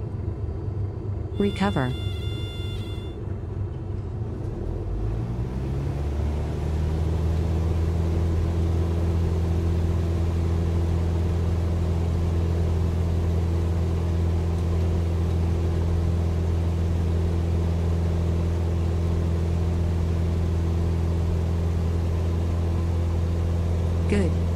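Steady low propeller-aircraft engine drone in Microsoft Flight Simulator 2020, settling to an idle-power hum that continues evenly under a spoken instruction.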